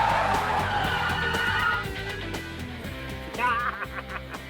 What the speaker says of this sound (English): First up is the regular braking distance on the automatic.